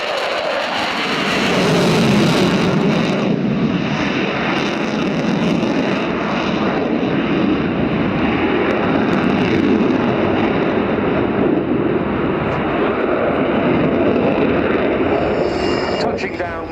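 A Sukhoi Su-27 jet flying a display at the Royal International Air Tattoo 2017, a loud, continuous, thunderous engine roar that swells and holds steady throughout, with faint talking underneath.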